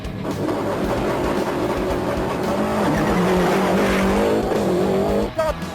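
A Lancia Delta HF rally car runs flat out on a short Monte Carlo rally special stage, heard from inside the cabin: a loud continuous engine roar rising and falling through gear changes, with brief tire noise.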